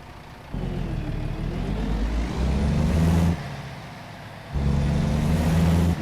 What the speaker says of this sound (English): Put my windows down so we can hear that engine for the last little bit of the video.